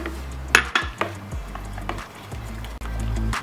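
Two eggs cracked into carrot bread dough in a bowl and stirred, giving a few sharp clinks of a utensil against the bowl followed by softer knocks and scraping as the mixing continues.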